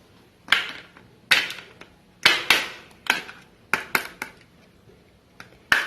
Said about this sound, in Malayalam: നമുക്കൊരു പ്ലേറ്റിലേക്കൊന്ന് കൊട്ടി നോക്കാം